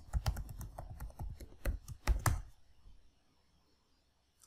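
Password typed on a computer keyboard during a Windows SnowSQL login, a quick run of close, crisp key clicks lasting about two seconds, then quiet.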